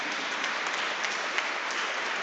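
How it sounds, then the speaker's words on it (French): Church congregation at a Sunday Lent Mass applauding two young altar servers, a steady wash of clapping from many hands, even and moderately distant. "nous applaudissons nos deux jeunes qui nous rejoignent aujourd'hui pour le service de l'hôtel"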